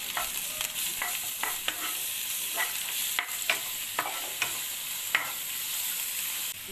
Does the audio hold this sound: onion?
yes